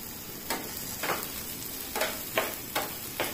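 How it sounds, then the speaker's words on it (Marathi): Two sliced onions fry in a little oil for a spicy masala bitter gourd dish. A quiet sizzle is punctuated by soft, evenly spaced stirring scrapes. "कांदे पण आपल्याला चांगले भाजून घ्यायचे आहेत। थोडं तेल घातलेलं आहे कांदे भाजण्यासाठी।"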